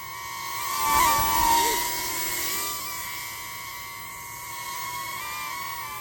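Swifsen kids' camera drone lifting off and flying, a steady high propeller whine with shifting pitch, loudest near the start and holding level after.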